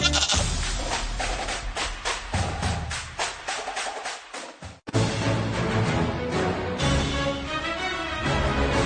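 A goat bleats loudly and closely in repeated wavering cries, mixed with music and sound effects in a TV commercial, followed by a sharp break and further busy sound.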